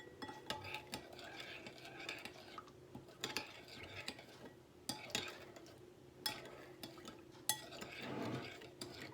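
Chicken pieces being mixed in a bowl with seasoning and ground black pepper for oven barbecue chicken: soft, irregular clinks and stirring scrapes at moderate volume, with a few sharper knocks and no talking.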